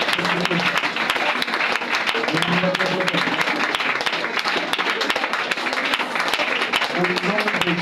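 A congregation at a French-language prayer service applauds, sustained dense clapping from a crowd in a hall, steady and loud throughout, with a voice speaking and calling out over the applause.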